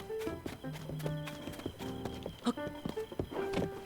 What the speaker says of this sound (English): Is that my horse? Yes, I think that's my horse.